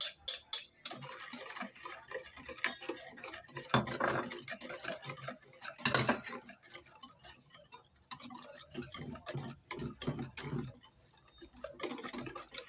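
Coconut milk and egg custard stirred in a bowl for pandan custard, a spoon or whisk ticking and clinking steadily against the sides, close and quiet, with irregular scraping strokes and no talking.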